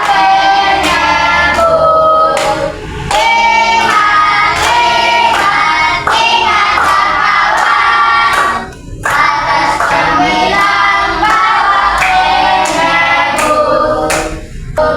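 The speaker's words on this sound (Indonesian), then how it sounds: "tepuk tangan" A classroom full of children claps loudly and steadily for about fifteen seconds, the close rhythmic hand claps dipping briefly now and then.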